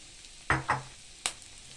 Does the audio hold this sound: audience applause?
no